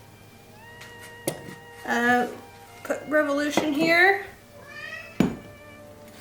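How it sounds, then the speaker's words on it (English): Cat meowing several times, drawn-out close tonal cries with rising and falling pitch, mixed with a few sharp thumps and a short spoken phrase. "The cat, apparently."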